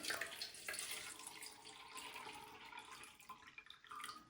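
Purified water pours into the tank of an automatic electric makeup brush cleaner and dryer, a steady close hiss and splash of running liquid that holds for a few seconds.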